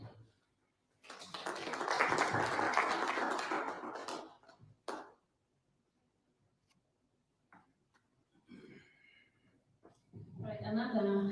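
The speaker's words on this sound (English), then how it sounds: "another hand of applause for our board member" A short burst of audience applause at a youth indicator workshop launch swells for about three seconds and fades, followed by quiet gaps with scattered voices talking.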